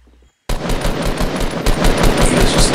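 Rapid automatic gunfire in the battle royale game Fortnite, a loud burst of close shots in fast rhythm starting abruptly after a brief quiet moment, with no talk.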